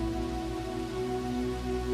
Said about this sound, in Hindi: शाम होते होते बारिश कुछ कम हुई, पर पूरी तरह बंद नहीं हुई थी।